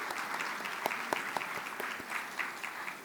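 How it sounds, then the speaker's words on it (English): Quiet, distant applause from a luncheon crowd appreciating boards and commissions members, steady scattered clapping with a few sharper individual claps. "give them a round of applause for all of their hard work for putting this on"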